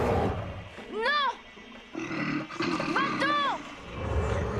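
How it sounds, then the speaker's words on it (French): A cartoon bear lets out growling roars in a children's animated show, mixed with cries from characters and loud, close, dramatic shouting in between. "Oh! Un ours! Au secours!"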